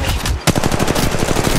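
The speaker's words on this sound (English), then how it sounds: "Opening fire." Rapid automatic gunfire from a mobile shooter game on an iPhone, a loud continuous burst of closely spaced shots broken by a short pause near the start, then rattling on without a break.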